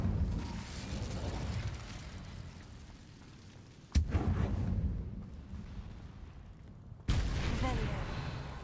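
Incendio fire spell in Hogwarts Legacy: sudden sharp bursts followed by roaring, crackling whooshes of flame that swell and fade, repeated three times with near-loud onsets.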